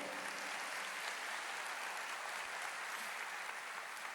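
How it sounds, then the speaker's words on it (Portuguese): Church congregation claps steadily in a full, dense round of applause during a sermon, continuous and even for several seconds with no voices standing out. "A sua mente, pode aplaudir."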